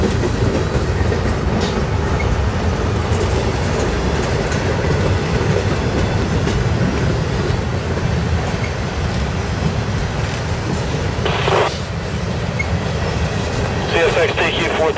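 A CSX freight train led by a rebuilt EMD SD40-3 locomotive rolls past close by, loud steady rumble and clattering wheels with brief squeals, plus a short radio-style voice.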